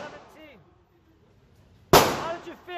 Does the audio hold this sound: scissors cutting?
no